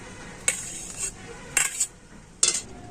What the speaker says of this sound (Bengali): খুন্তি দিয়ে আমি একটু এরকমও কেটে কেটে দিচ্ছি